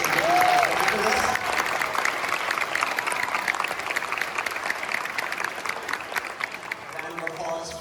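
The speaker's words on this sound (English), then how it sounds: "And a round of applause for all of our elementary choral teachers who helped rehearse and get ready for this." Audience applause fills an indoor school choral concert: dense, steady clapping at moderate level for several seconds, with cheers and voices mixed in beneath it.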